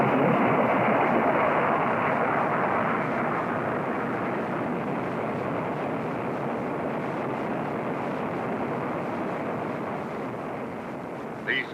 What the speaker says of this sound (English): full power afterburner operation.